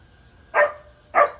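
Two sharp dog barks a moment apart, fairly close and loud, against a quiet background.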